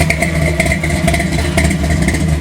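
A 1970 Chevy Chevelle Malibu pro-street car with a 454 V8 bored out to 496 cubic inches idles and revs loudly through its exhaust pipes, a close, continuous, lumpy rumble with small surges.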